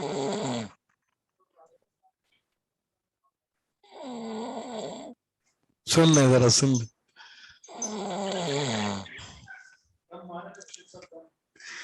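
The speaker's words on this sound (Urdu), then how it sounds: "شکر ہے خراٹے سن لیے ہم نے." Snoring picked up by a microphone during an online lecture: several loud, rasping snore breaths in separate bursts with quiet gaps, mixed with brief spoken remarks.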